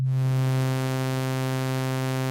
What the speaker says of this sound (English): So I will now morph this waveform from being a sine wave to being a sawtooth waveform